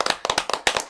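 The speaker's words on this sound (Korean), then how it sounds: "박수 박수 박수" An audience at a political rally claps in a quick, uneven burst of sharp hand claps, close and loud.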